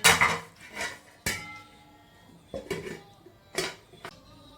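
Metal pot of chicken curry being handled in a home kitchen, with several sharp clanks and clinks of a lid and utensils spaced a second or so apart, close and fairly loud against quiet gaps.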